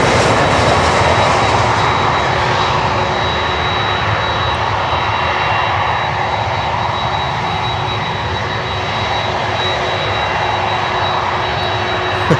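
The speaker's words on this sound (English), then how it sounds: "I hope you enjoy the sound, the CFM6 sound from the 767" Jet engines of a Boeing 767, CF6 turbofans, give a loud steady roar with a broad rushing hiss and a faint high whine that holds level throughout, with no voices.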